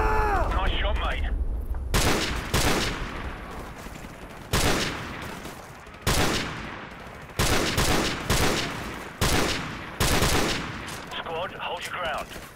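Heavy gunfire in Call of Duty Modern Warfare Remastered: loud, close bursts of automatic weapons fire in repeated sharp volleys roughly every second or two, with brief gaps and faint battlefield sounds between.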